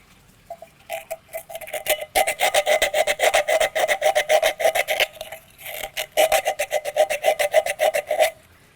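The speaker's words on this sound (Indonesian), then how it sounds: "Jangan lupa mengamplas bagian dalamnya" Rapid, steady rasping strokes of sandpaper scraping the inside of a drilled hole in wood, close and fairly loud, in rhythmic bursts with a short pause midway.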